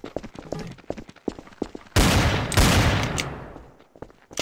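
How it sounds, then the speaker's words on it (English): Gunfire in the video game Garry's Mod, Trouble in Terrorist Town mode: scattered sharp shots and clicks, then a loud sustained burst of rapid fire that tails off into more sporadic pops. "Hey, why are you shooting? Huh? Why are you shooting at me?"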